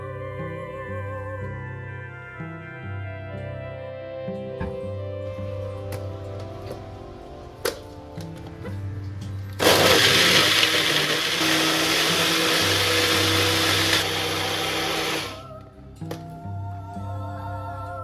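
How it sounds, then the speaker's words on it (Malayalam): A blender whirs loudly as it purees cooked ragi with banana into a smoothie, one sustained burst of about five seconds coming between quieter kitchen background hum. "ഇനി നമുക്കത് നന്നായിട്ടൊന്ന് ബ്ലെൻഡ് ചെയ്യാം"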